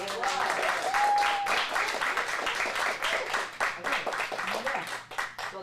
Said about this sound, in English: See, round of applause.